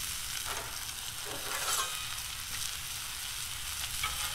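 Potatoes fry on a Blackstone 28-inch flat-top griddle, a constant close sizzle with a few soft scraping stirs of a spatula across the hot steel.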